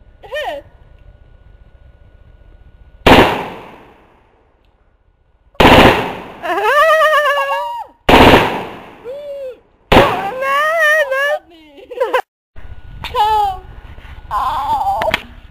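An SA58 (VZ58) rifle fires blank rounds in several sharp, loud bursts separated by quiet gaps, each followed by women's shrieks, laughter and chatter.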